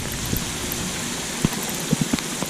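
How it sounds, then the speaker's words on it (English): Heavy rain pours down steadily outdoors on a lake during fishing, a dense hiss with a few scattered louder drops and splashes close by. "it's pouring"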